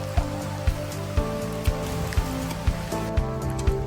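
Steady rain falls during the rainy season in the Philippines, a dense continuous hiss, while regular low thumps recur about every half second alongside sustained musical tones.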